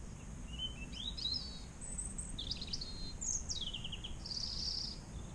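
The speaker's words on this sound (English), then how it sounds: "Just got a bird singing to me." A bird sings in a series of faint, high chirps and short warbles at the start of a 200 km audax cycling event, carried over a steady low rumble of wind and road noise.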